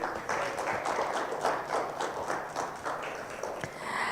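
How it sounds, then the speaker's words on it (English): An audience at a Lusaka internet meet-up claps in sustained, dense applause, steady and fairly close throughout. "Please give him a round of applause"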